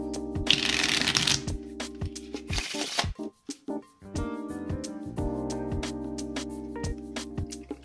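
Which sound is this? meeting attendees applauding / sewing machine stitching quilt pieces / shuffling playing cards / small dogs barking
shuffling playing cards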